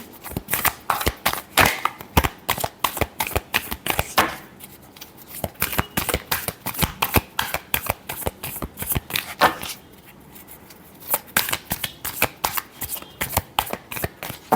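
Tarot cards are shuffled by hand during a Pisces reading in a quick, steady riffling rhythm. Bursts of crisp card slaps repeat close and clear, broken by two short pauses.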